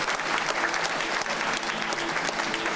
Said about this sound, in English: How about a round of applause for Quantum?